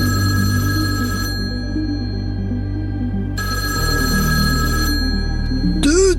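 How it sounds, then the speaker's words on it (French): A telephone bell rings insistently in repeated bursts over background music, close and loud, with a brief swooping sound effect at the end. "ce téléphone à 7h du matin?"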